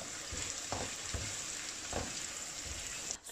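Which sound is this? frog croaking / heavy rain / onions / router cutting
onions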